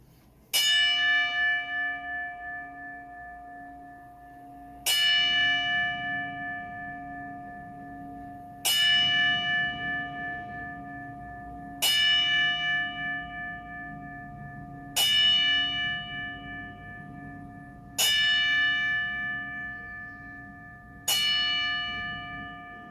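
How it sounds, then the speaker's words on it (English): A single bell tolls slowly for a ten-bell memorial salute, each clear ringing strike spaced about four seconds apart and decaying fully before the next, heard alone in silence. "for this 10-bell salute and dedication to Big Jim Anderson, Jim Parella."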